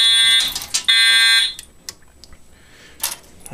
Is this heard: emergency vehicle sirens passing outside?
no